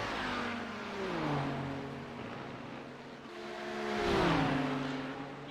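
Simulated race cars, Audis in a Road America 500 sim race, drone with rising and falling engine pitch as a faster car closes in and roars past near the end, loud and steady with no talk.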